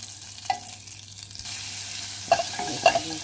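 Broad beans toasting in oil with crushed, finely minced garlic, a steady close sizzle with several short clinks and scrapes of a utensil against the pan and no talk.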